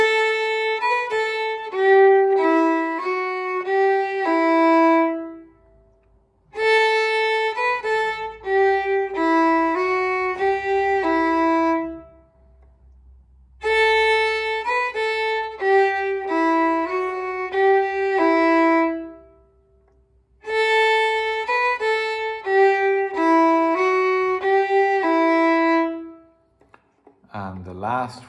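Third phrase of Part A of the Ballydesmond Polka, an Irish tune, played as bright, quick melodic notes in four short bursts separated by brief pauses, clear and alone.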